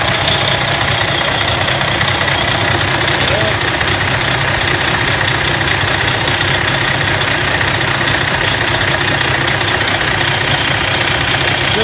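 A 2001 Volvo VNL64T430 truck with slight blow-by idles steadily, a continuous low diesel rumble with a faint knocking texture, recorded up close and without a break.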